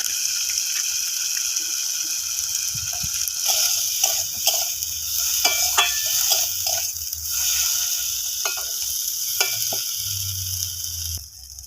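A pan of vegetarian Bengali eggplant with rice and spices sizzles steadily while being stirred, with a constant frying hiss broken by soft scraping and occasional clinks of the utensil against the pan.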